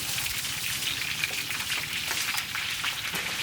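Rain falls steadily outside while people shelter indoors, a dense even patter of drops that stays fairly loud and constant, with no talk.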